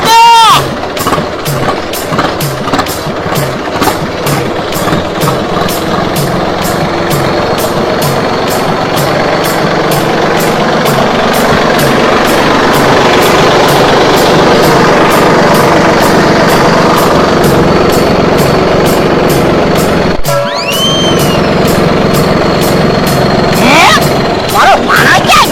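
A diesel tractor engine runs steadily throughout, a continuous close rumble with people talking over it and a brief dip near the end.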